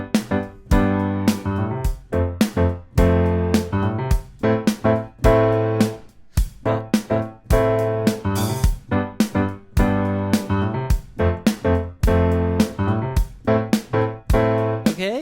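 Piano plays a part of a song with a beat, dense rhythmic chords and a bass line in a steady groove, loud and close, purely instrumental.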